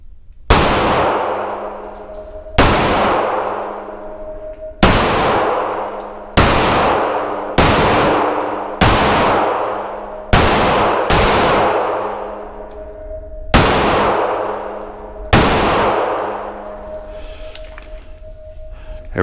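Smith & Wesson M&P Metal 9mm pistol firing 115 grain rounds at 7 yards, ten loud, sharp shots in quick, uneven succession, each with a ringing echo that fades before the next, with no talk.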